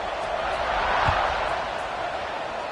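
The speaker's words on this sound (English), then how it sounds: "this crowd is buzzing after that last score" A football stadium crowd buzzes after a score, a dense, steady roar of many distant voices filling the space with no break, one brief thump rising near the middle.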